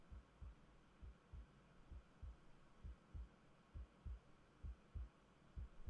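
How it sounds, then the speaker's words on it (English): Video game heartbeat effect from Reverse 1999, a faint, low, steady double-thump pulse repeating about twice per second over a soft hum, with no talk. "A heartbeat. Right outside the door."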